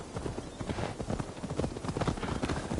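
Horse hooves clip-clopping in Assassin's Creed Valhalla, a steady rhythmic trot of close, clear hoofbeats heard on their own.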